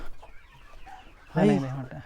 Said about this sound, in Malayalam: ഇത് ഫ്രാൻസിൽ നിന്നുള്ള കോഴിയാ